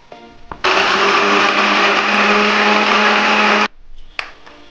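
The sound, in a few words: blender grinding ginger, garlic and tomato into paste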